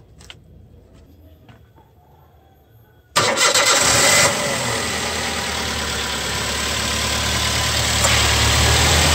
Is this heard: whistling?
no